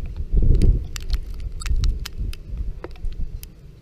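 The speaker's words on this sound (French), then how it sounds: "Très belle averse de neige et de grêle." Heavy shower of hail and snow pellets in Tour-en-Sologne, France, a rough pattering and rattling with scattered sharp ticks of pellets striking nearby surfaces, loud and uneven, surging in bursts.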